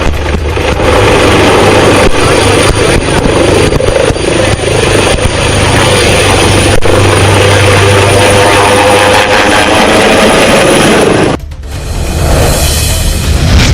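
A landing helicopter's loud, steady rotor roar and engine whine fills the scene close by, with wind buffeting and plastic bags blown about, before the noise briefly drops and resumes.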